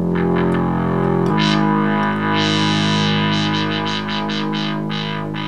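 Restored Moog synthesizer producing a buzzy, distorted sync-modulated tone as its filter sweeps open and closed, a sustained loud electronic drone shifting in brightness, with no speech.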